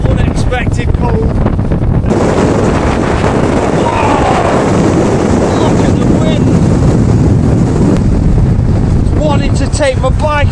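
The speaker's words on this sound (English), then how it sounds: "Look at the wind trying to blow my bike away." Strong gusting wind roars and buffets the microphone without pause on the Skiddaw mountain summit during a blizzard, loud and close throughout.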